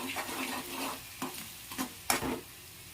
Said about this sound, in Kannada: ಸ್ವಲ್ಪ ತಿರುಗಾಡಿಸ್ಬೇಕು